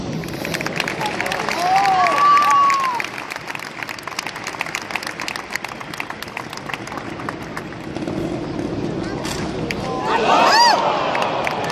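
A crowd in an indoor arena applauds a trials rider at an X-Trial event in Barcelona's Palau Sant Jordi, a broad, steady wash of clapping and cheering over several seconds, swelling again near the end, while an announcer talks over it.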